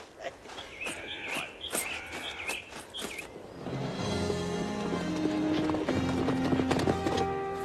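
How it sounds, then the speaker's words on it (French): Horses pulling a wagon in a Western setting, hooves clip-clopping in a steady rhythm at close range, with music swelling in partway through and some background noise. "j'ai trouvé un chariot et les chevaux aussi"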